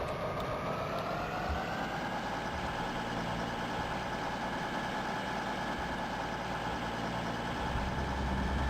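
A 19-litre inline-six engine idles steadily in the Open Rails train simulator, a continuous low rumble with a faint rising whine early on, holding even and unbroken throughout.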